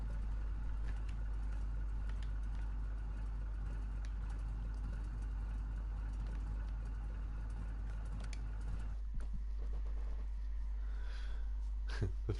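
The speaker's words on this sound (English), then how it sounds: "the noise that truck makes on tick over" A truck engine idling steadily in SnowRunner, with a constant low rumble running without a break and a few lighter knocks near the end.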